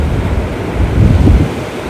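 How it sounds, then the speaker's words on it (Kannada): Ocean waves at Colva Beach in Goa roll in as a steady low roar with wind buffeting the microphone, swelling slightly midway and holding a continuous broadband wash throughout. "ಅಲೆಗಳು ಸದ್ದು ಕೇಳಿಸ್ಕೊಂಡು."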